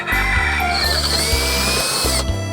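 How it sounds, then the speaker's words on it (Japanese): A power drill whines in short bursts, pausing and restarting every half second or so, as holes are bored into a plastic container from a 100-yen shop. The drilling is close and fairly loud. "では適当に穴を開けていきます。"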